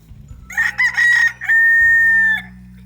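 A rooster crows loudly and close by on a farm in Pennsylvania's Upper Schuylkill Valley, a broken call ending in one long drawn-out note.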